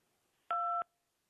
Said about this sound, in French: vous appuyez sur les touches en même temps